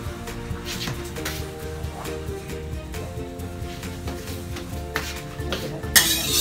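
Lotus seed paste is stirred in a pot over low heat for mooncake filling, a spatula scraping and knocking against the pot in repeated clinks over a soft bubbling sizzle, close and fairly quiet.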